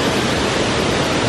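A waterfall at a river diving spot roars as a steady, loud, broadband rush of falling water, continuous and unchanging, with no voices.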